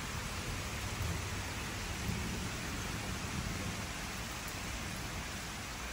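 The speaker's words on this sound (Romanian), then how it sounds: "N-a durat mult și a început iarăși ploaia tare." Heavy rain pours steadily during a thunderstorm, a dense continuous roar with low rumbles of thunder, loud and unbroken throughout.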